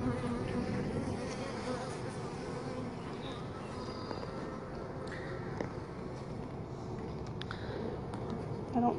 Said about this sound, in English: There are a lot of bees on this one.